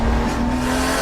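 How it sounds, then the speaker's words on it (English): A turbocharged car's turbo flutters with compressor surge, a brief rapid chattering burst over the engine's idle, close and loud. "that choo-choo-choo flutter"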